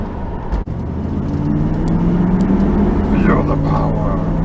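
A 1977 Corvette L48 V8 drones steadily from inside the cabin, its engine note slowly rising in pitch as it pulls under road rumble after a brief thump near the start.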